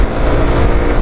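An FKM Slick 150 motorcycle engine revving at half throttle, a loud, close, steady buzzing drone sustained through the whole brief moment, with no talk over it.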